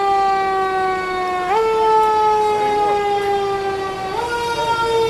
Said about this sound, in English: He's coming home with the sirens on.